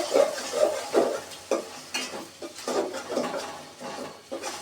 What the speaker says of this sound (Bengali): এক চামচ রসুন বাটা তিন চামচ পেঁয়াজের বাটা মশলা দিয়ে পেঁয়াজের সাথে একটু কষিয়ে নিতে হবে ভালোভাবে